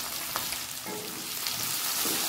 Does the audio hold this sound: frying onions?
yes